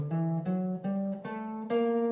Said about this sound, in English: Now if I throw in the Lydian Flat 7 scale,